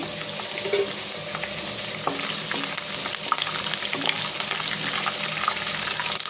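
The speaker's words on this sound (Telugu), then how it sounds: "ఇప్పుడు దీంట్లో మనం ఎండుమిర్చి పచ్చిమిర్చి ఆవాలు ఇవి కూడా బాగా ఫ్రై అవ్వాలి" Peanuts, dried red and green chillies and mustard seeds frying in oil for Andhra-style tamarind pulihora, a loud close steady crackle with scattered pops and stirring scrapes, no voices.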